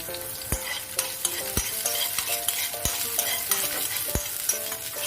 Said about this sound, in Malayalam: അതിലേക്ക് നമുക്ക് ഇഞ്ചിയും പച്ചമുളകും ചേർത്ത് കൊടുക്കാം